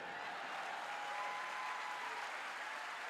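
Steady applause from an audience fills the room, a continuous wash of clapping at moderate volume with no pauses.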